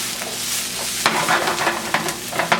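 Onions softening in a pan for mote pillo, with a soft, steady sizzle and a few brief utensil scrapes and stirs over a short stretch, close by, with no talk.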